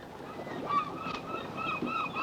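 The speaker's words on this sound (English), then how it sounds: "and some seagulls flying about" Seagulls call over a beach by the sea, a scatter of honking, squawking cries at moderate distance over a steady wash of background noise.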